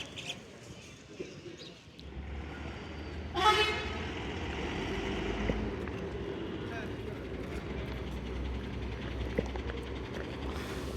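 A new SETC premium bus pulls into the Vathalagundu depot with one short, sharp horn toot over a steady low engine rumble, while people talk nearby.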